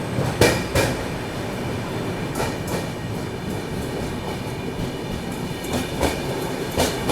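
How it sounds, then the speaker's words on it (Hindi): Passenger train, the Mumbai–Amritsar Paschim Express hauled by a WAG9 electric locomotive, pulling out of Vapi railway station. Steady rolling rumble with repeated wheel clicks over rail joints, heard close and continuous, with no talk. "अपनी ट्रेन निकल रही है वापी रेलवे स्टेशन से"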